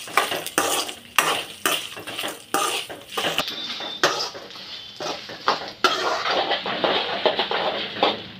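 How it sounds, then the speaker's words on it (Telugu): Cashew nuts frying in a pan for spinach rice, repeated quick metallic scrapes and clatters of a spoon stirring against the pan over a light sizzle, close and busy, with no speech. "ఇప్పుడు జీడిపప్పు వేసుకుంటున్నానండి. ఇవన్నీ దోరగా వేగాక"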